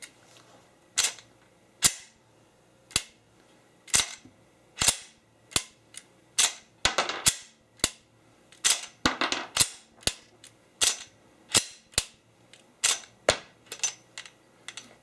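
A Smith & Wesson M&P pistol is test fired, with about twenty sharp, loud cracks spaced roughly every half second to a second, some in quicker pairs, each ringing briefly and separated by quiet gaps.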